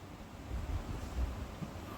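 A swift river flows along the Hemkund Sahib yatra route, a soft, continuous rushing wash with light wind rumble mixed in and no voices.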